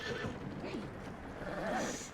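A horse in Red Dead Redemption 2 whinnies with a wavering neigh, then gives a second shorter whinny, over soft hoof clip-clop and faint game ambience.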